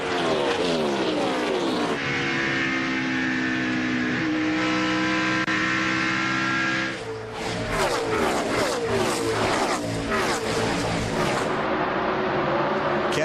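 NASCAR Winston Cup stock cars racing in the 2001 Tropicana 400 at Chicagoland Speedway, with loud roaring V8 engines whose pitch rises and falls as cars pass close, overlapping continuously with no break.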